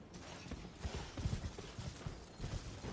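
Horse hooves in the video game Elden Ring, a soft, uneven run of low clip-clop thuds at a quiet level, with no voices.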